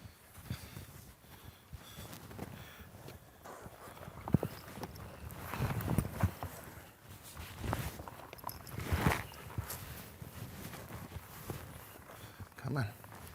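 A nervous horse's hooves clip-clop and shuffle on the ground while it is being saddled, in irregular steps of moderate loudness, mixed with handling noises and a voice.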